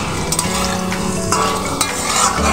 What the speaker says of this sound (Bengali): ফোড়নের সঙ্গে আমি আলুটা একটু নেড়ে নিলাম